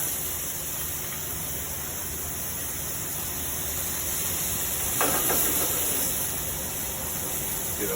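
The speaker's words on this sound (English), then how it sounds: "We want to add a little bit of our white wine to it so we can stop cooking the garlic so much." White wine hitting a hot pan of garlic for gambas al ajillo, a steady broadband hiss and sizzle that swells briefly near the end, with no voices.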